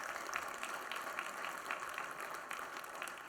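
An audience at a book launch gives a round of hand claps for honorees, soft and somewhat distant, with a quiet steady clatter of claps throughout and no talking.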